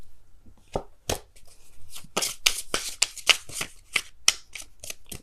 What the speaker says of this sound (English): Can I just shuffle?